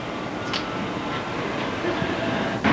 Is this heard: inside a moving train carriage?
yes